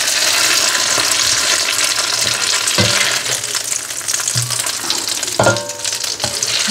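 Tofu frying in hot oil in a home kitchen, a loud continuous sizzle with occasional clinks and stirring knocks from a utensil in the pan.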